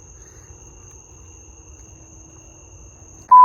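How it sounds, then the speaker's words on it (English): Crickets chirp at night in a steady, high, continuous trill against a quiet background at a resort, ending in a sudden loud tone. "It's just me and the crickets."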